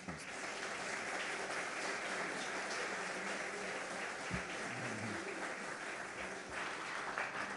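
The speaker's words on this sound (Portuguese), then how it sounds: "Gostaria que, por favor, vocês aplaudissem." Steady applause from a seminar audience in São Paulo fills the room, continuous and fairly even throughout, with faint room murmur underneath.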